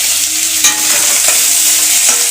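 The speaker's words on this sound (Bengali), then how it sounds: "আর এই চলছে পেঁয়াজ ভাজা" Onions frying in a pan for a home-cooked Bengali meal, a steady loud sizzle with light stirring scrapes, close and continuous with no voices.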